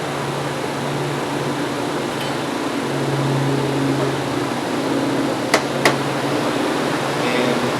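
Two sharp taps on the radiator fan motor of an Acura 3.2TL, ringing out over a steady mechanical fan hum.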